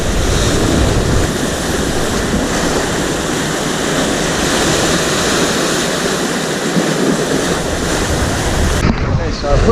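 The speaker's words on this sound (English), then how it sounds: "The trouble is these waves are going across there pretty bad" Ocean surf crashes and rolls continuously along a Central American shoreline during shore fishing, loud and close, with heavy wind buffeting the microphone throughout and no talk.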